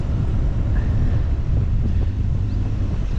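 Wind gusts roar across the microphone aboard a boat on the Norfolk Broads, a heavy, steady low rumble filling the whole clip with faint water and engine sounds beneath it.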